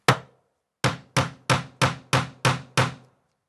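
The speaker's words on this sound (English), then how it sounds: "hold it steady, give it a couple of whacks." A hammer strikes a snap hole-punch tool pressed into fabric: one sharp whack, a pause, then seven quick evenly spaced whacks, each a crisp close knock with a short ring.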